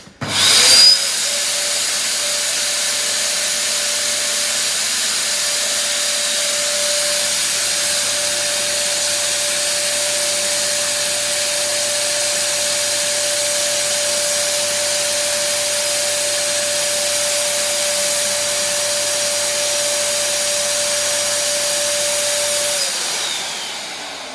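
A cleaning machine with a reservoir runs steadily for over twenty seconds, a loud continuous whine and hiss with a constant tone that starts and stops abruptly, no talk.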